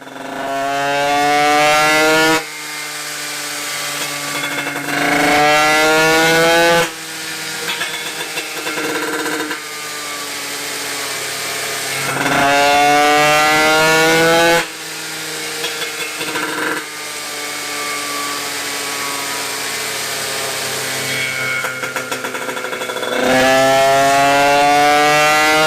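A tuned scooter engine running a 34 carburettor revs hard and loud in repeated rising and falling sweeps, climbing to a high-pitched buzzing wail and then dropping back, up close.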